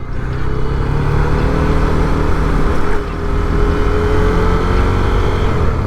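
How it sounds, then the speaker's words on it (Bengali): Honda CB300F motorcycle engine pulling hard in first gear, a loud, steady drone with rising harmonic tones that dip briefly near the middle before climbing again, heard up close while riding with constant wind and road noise. "বাইকের যে স্পিড উঠছে এ দেখো। আমরা মোটামুটি এখন এখানে যদি থাকি ফার্স্ট গিয়ারে"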